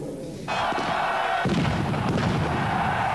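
A loud firecracker blast goes off in a packed football stadium during a Nice versus Bastia Coupe de France match, followed by the sustained roar of the crowd.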